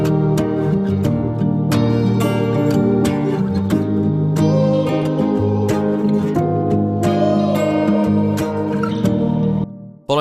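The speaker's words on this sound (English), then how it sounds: "I wanted to add some piano and some acoustic guitars" Song arrangement with piano and acoustic guitars added, dense strummed and struck tones in a steady, loud, continuous mix that cuts off abruptly near the end, with no talking.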